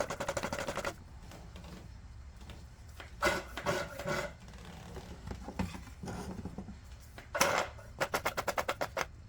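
A hand pump drawing oil from a Troy Bilt TB42 lawn mower makes bursts of rhythmic rasping strokes, close and fairly loud, with quicker repeated pumping toward the end.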